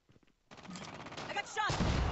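Gunfire from the mobile shooter game Call of Duty Mobile, bursts of shots rising after a quiet start and growing louder toward the end, mixed with game effects and voice-like sounds.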